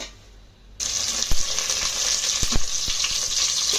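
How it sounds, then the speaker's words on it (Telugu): Onion and green chilies dropped into hot ghee for mutton biryani, a sudden bright, loud sizzle that holds steady, with a few sharp clinks of a utensil against the pan. "ఇందులో ముందు ఉల్లిపాయ, పచ్చిమిరపకాయ ముక్కలు వేసేయండి."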